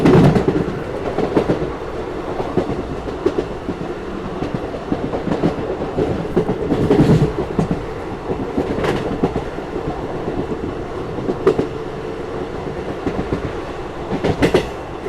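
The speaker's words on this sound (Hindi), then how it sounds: "यहाँ पे अपनी ट्रेन बालामऊ जंक्शन को स्किप कर रही है" A passenger train runs through Balamau Junction without stopping, with steady clickety-clack of wheels over rail joints and rhythmic bursts as it crosses points, heard from inside the carriage.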